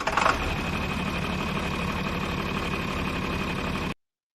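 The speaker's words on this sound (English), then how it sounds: "I got you a little John Deere tractor sound." A John Deere tractor engine idles close by, a continuous low rumble with a mechanical hum that holds even for about four seconds before cutting off abruptly.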